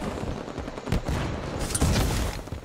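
Needler weapon fired in Halo 5, rapid bursts of sharp crackling shots layered with game combat noise, loud and close in quick succession.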